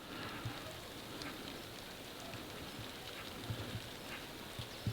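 Light rain falls outdoors near a water reservoir, a faint, even patter with a few scattered louder drops over a quiet background.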